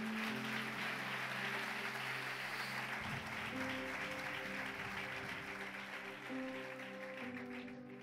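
A church congregation applauds at a Spanish-language service. The clapping is a steady, fairly distant wash that lasts throughout, with sustained organ or keyboard tones playing underneath.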